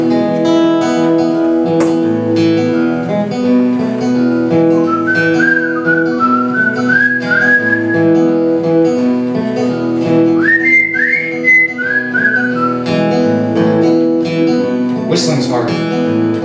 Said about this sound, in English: Whistling's hard.